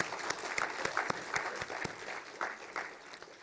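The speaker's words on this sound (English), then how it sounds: "So let them get a big applause from each of us present here." An audience at a stakeholders' meeting on weather and climate services applauds with scattered, crisp hand claps that ripple steadily in the mid-distance, fading slightly toward the end.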